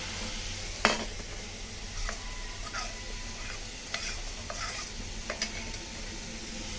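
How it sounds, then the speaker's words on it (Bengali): A spice paste tipped into deep-browned fried onions, frying for a mustard-paste chela fish curry, sizzles steadily in hot oil with a sharp splash at the start and scattered scrapes and clicks of stirring. "এখন দিয়ে দেবো আমি গুলে রাখা মশলা"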